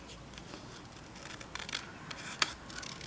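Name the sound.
cutting out a paper candy cane shape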